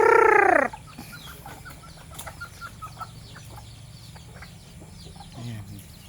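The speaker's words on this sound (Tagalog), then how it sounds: "Ayan, may mga anak na yung may mga sisiw na yung mga manok natin." Hens cluck among newly hatched chicks in a farmyard, with a brief loud burst of chick peeping at the start followed by soft scattered clucks, rustling and wing flaps close by.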